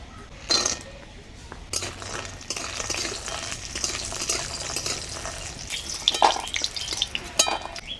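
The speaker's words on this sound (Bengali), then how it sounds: "অল্প তেল দিয়ে বড়িগুলো ভেজে নেব।" Lentil dumplings (bori) frying in a little oil in a pan: a soft sizzle runs throughout, broken by scattered clinks and scraping stirs of a utensil, with a few sharper knocks near the start and end.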